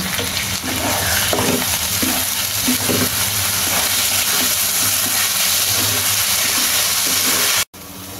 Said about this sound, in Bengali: পোলাওয়ের চালটা আমি এর সাথে একসাথে ভেজে নেব।